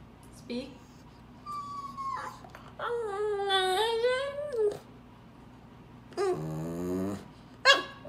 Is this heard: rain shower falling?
no